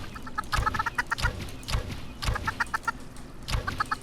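Repeated clucking from a group of Minecraft chickens comes in quick choppy runs, mixed with light thuds over a faint background hum.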